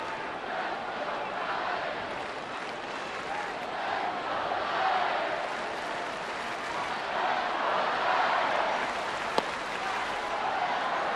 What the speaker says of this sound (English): And as you heard, lots of cheering for Belt.